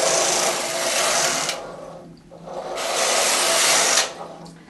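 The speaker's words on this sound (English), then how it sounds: "I'm going to take the carriage from right to left and then left to right." A knitting machine carriage slides across the needle bed in two long, loud rasping sweeps, first right to left and then back, with a short quiet gap between the passes.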